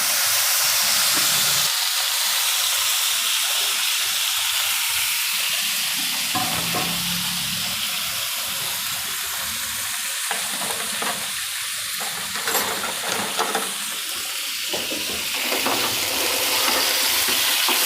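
Carrots fry in hot oil with asafoetida in a pan, giving a loud, continuous sizzle broken by repeated stirring and scraping strokes, close by and without speech.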